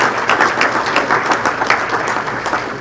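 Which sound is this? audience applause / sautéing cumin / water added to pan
audience applause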